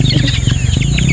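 Breeder roosters fighting make a short, loud burst of clucking and scuffling close by, lasting about a second.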